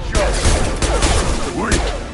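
Rapid bursts of impact shot gunfire from the video game Mass Effect 2, loud and dense with overlapping blasts and whooshing effects across about two seconds.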